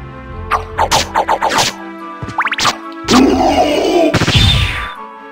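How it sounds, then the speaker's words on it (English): Bursts of impacts and a roaring explosion in the video game Symphony of the Night, at the Bell Tower stage: quick rhythmic hits and tonal game effects, then a loud, sustained blast that fades out. "Nice explosion, bruh."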